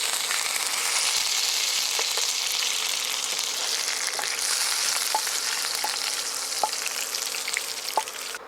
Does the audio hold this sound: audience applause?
no